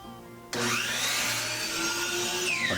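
A miter saw spins up sharply and bites through a piece of wood, a loud whining motor with a rising screech of the blade in the cut, close and steady for about two seconds.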